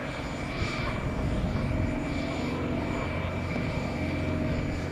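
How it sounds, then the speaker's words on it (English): A Beechcraft T-34 Mentor propeller plane flies at an airshow, its engine a steady, broad drone at moderate distance with no breaks. "And wait till you see her fly the T-34 Mentor"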